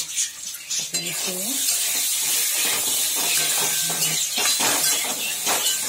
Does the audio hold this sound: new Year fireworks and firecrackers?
no